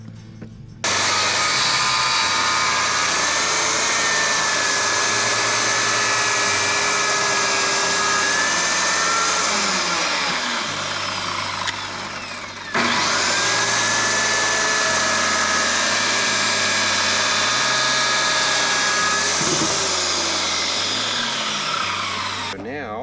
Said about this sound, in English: I don't want to run the skill saw through my sawhorses